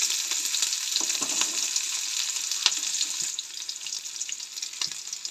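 Onion and garlic sautéing in two spoons of oil for a Goan colocasia leaf curry crackle in a bright, steady sizzle, with light spatula scrapes scattered throughout.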